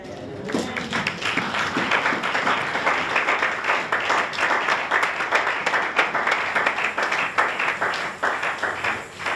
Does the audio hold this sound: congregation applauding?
yes